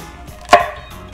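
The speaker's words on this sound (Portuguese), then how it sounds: "Eu vou cortar em pedaços grandes, maiores mesmo, porque fica mais fácil para retirar" A single sharp knife chop through vegetables on a cutting board, cutting large pieces for a vegetable stock; one quick, close thud stands alone with a quiet background.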